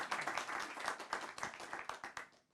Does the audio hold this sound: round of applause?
yes